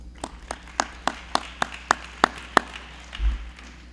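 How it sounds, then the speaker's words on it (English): At a school family evening, about nine sharp, separate hand claps sound in a slow, steady rhythm, close and fairly quiet with silence between them, ending in a soft low thump. "Let's have a round of applause for Mrs. Allpress."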